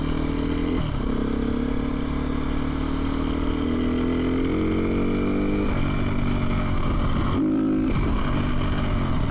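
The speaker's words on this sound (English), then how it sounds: "I think that might be the first power wheelie I did with the Supermotos" A supermoto motorcycle engine revs hard during a power wheelie on a moto camping trail ride. The roar is loud and close, and its pitch climbs and holds before dropping briefly.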